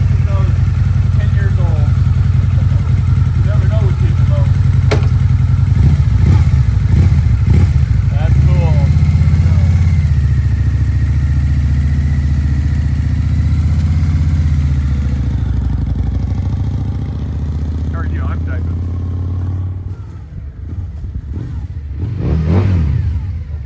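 A Harley-Davidson V-Rod motorcycle engine idles loud and close with a deep, throbbing rumble, swelling in brief revs before settling lower, while people talk over it.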